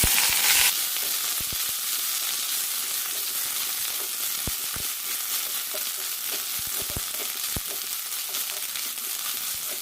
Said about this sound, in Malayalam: കൂടെ തന്നെ കുറച്ച് മല്ലിയിലയും നന്നായി വഴറ്റിയെടുക്കാം